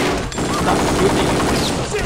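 Heavy, continuous gunfire in the Kingpin crime shooter game: a loud, unbroken volley of overlapping shots with no pause.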